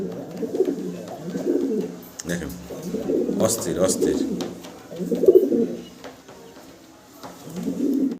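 Pigeons at a farm coo in repeated throaty rolling phrases, fairly close and moderate in volume, with someone speaking briefly over them.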